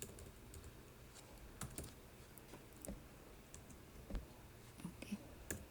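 Quiet computer keyboard typing, scattered individual key taps and clicks spread unevenly with pauses between them, soft and close against a faint background hiss.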